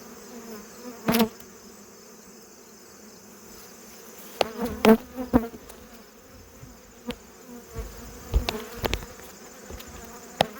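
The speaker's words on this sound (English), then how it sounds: "Those bees instantly start calming right down and go right for that upper entrance" Honey bees buzz steadily around a hive as a box with an upper entrance is replaced, a close continuous hum broken by a few sharp knocks and thuds.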